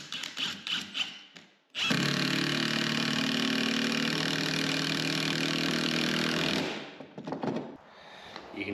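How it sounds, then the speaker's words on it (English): Milwaukee impact driver sinking screws into wood in a workshop: one loud, close, continuous whirring burst of about five seconds, with quieter handling clatter before and after. "So I use this impact driver to put these screws in."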